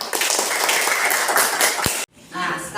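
Children in an elementary school classroom clapping in a dense burst of quick, loud claps for about two seconds, stopping abruptly, followed by a brief murmur of voices.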